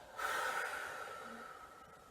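A person breathes out in a long, steady exhale during a youth warm-up exercise, the breath rising at the start and fading slowly over about two seconds, close and soft with no talking.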